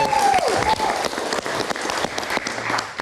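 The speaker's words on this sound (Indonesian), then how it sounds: "Penonton kasih semangat dulu dong." A studio audience at a live talk show applauds and cheers in a dense, loud, sustained wash of clapping with a brief whistle near the start.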